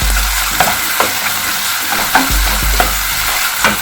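A spoon stirs chili, sambar and turmeric powders into a sizzling garlic curry masala in a pan, with repeated scraping strokes at an uneven pace over a steady frying hiss.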